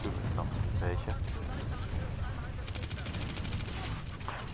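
Gunfire crackles through a Planetside 2 battle as a sniper shoots, scattered sharp shots giving way to rapid bursts, with someone talking over the fighting.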